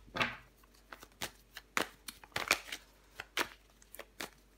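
Tarot cards are shuffled and flipped over on a table, producing a series of close, crisp riffling snaps and slaps at an irregular pace.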